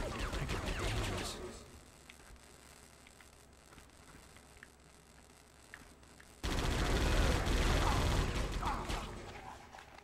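Gunfire in the video game Die Hard Vendetta, a loud burst of shots near the start and a second sustained stretch of dense firing in the last few seconds, with quieter game ambience between.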